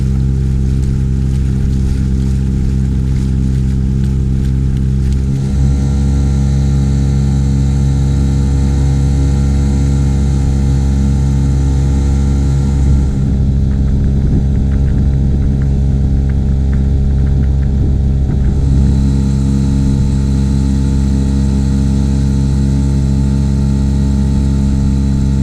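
A small outboard motor on a sailboat drones steadily and loudly close by throughout, a continuous low hum with a slight shift in tone partway through, and no voices.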